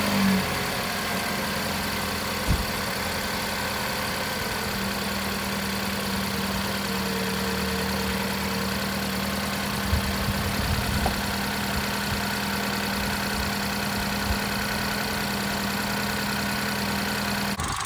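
A 2016 BMW X1 fitted with an aFe intake and a deleted Dinan intake resonator idles steadily after startup, a constant close engine hum with a few faint clicks and knocks, no voices.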